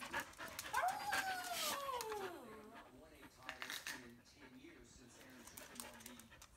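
Siberian Husky whining in rising and falling high-pitched whimpers, followed by soft repeated whines and panting, close by and mixed with a person talking quietly.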